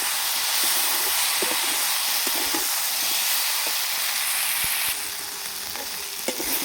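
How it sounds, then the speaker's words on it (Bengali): Fried potato and soybean pieces stirred into a hot, sizzling spice masala, with a loud steady sizzle and hiss under repeated scraping stir strokes, no talking. "এবার দিয়ে দেবো এর মধ্যে ভেজে রাখা আলু আর সয়াবিন। এটা ভালোভাবে মিশিয়ে নেব।"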